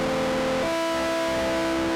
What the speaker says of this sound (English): See, a lot of distortion.